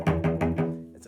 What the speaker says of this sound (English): you'll notice that I can play very close to what we call the frog